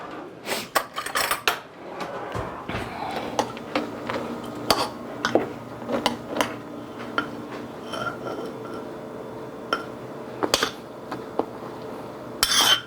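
A spoon clinks and scrapes against dishes while a carnivore-diet meal is served. Bright metallic and glassy taps come in irregular clusters, some loud and close, over a quiet kitchen background with no talking.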